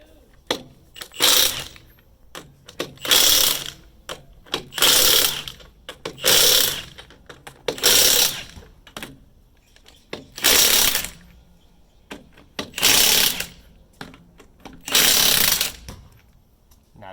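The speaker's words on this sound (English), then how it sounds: "this is my Milwaukee Fuel M18 half-inch drive impact. So let's see how this does here." A Milwaukee M18 Fuel half-inch drive impact wrench hammers at a lug nut on a 2011-2018 Dodge Ram 2500, firing in about seven loud, close rattling bursts, each a second or so long, separated by short pauses.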